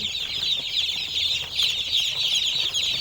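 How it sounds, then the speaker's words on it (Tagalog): Hungry young chicks peep in a dense, continuous high-pitched chorus while being fed chick feed, close and fairly loud with no talking. "lalagay muna tayo ng patuka para medyo tumihimik yung mga sisiyo natin kasi mukhang gutom na sila"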